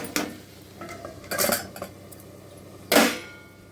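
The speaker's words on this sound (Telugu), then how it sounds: "దీనికి మళ్ళీ మూత పెట్టేసి" A metal lid set back onto a pan of ridge gourd curry with sesame powder, a few sharp close clanks and rattles separated by quiet gaps, with no talking.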